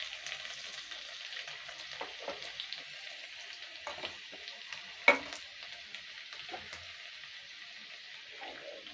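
Chopped garlic, about two spoonfuls, frying in oil as the base for fried rice: a steady soft sizzle runs throughout, with occasional stirring scrapes and one sharper clack midway, no talking.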